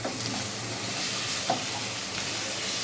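Chicken pieces for a special chicken karahi curry sizzle and fry in a pan without oil as they are turned over, giving a steady, close hiss with faint stirring scrapes throughout and no talk.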